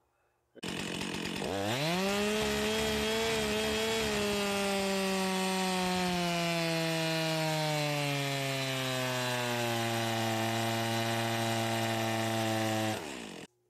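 A Stihl chainsaw, either an old 044 or a newer MS 400 C, revs up and cuts through wood for about twelve seconds, a loud, close, continuous engine whine that drops slightly in pitch under load before cutting off.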